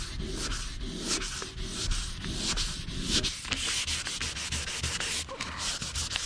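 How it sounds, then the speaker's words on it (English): Hand sanding of car paint before priming: continuous rapid back-and-forth abrasive scrubbing, close and steady with a regular stroke rhythm, alone with no talking. "so you could just keep sanding till it's gone"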